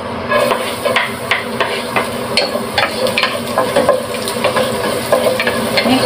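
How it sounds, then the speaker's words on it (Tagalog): Garlic sautés in hot oil with a loud, continuous sizzle, punctuated throughout by frequent clattering taps and scrapes of a spatula against the pan; no voices. "Maglagay na tayo ng oil. Lagay na natin ang garlic."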